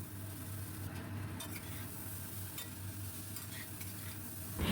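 Potatoes and jackfruit seeds being stir-fried with spices over a medium gas flame: a soft, steady sizzle with occasional scrapes and knocks of a spatula in the pan, fairly quiet throughout.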